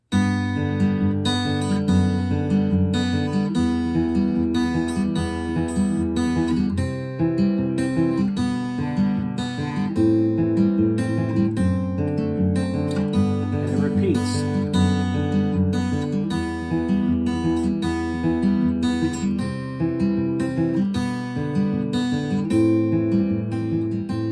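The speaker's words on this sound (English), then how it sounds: "It sounds like this, again, with the Travis picking." Steady Travis-picked acoustic guitar playing, with an alternating bass and melody notes over it, played continuously and fairly loud, no voices.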